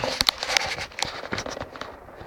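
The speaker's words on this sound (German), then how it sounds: "der beste Böller ist es nicht, habe ich lautere gehört" A homemade firecracker set off in a campfire gives a series of sharp cracks and pops spread across a couple of seconds, crackling bursts at moderate loudness with no voices.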